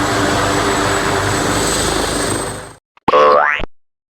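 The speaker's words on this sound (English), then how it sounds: "Helicopter." A loud, steady helicopter roar that cuts off abruptly, followed by a short, springy cartoon boing.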